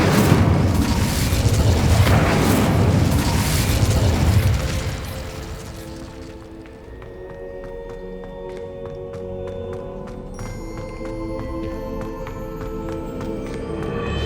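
An Incendio fire spell goes off in the Hogwarts Legacy video game: a loud burst of roaring, crackling flame for about four seconds that fades into quieter magical chimes and game ambience.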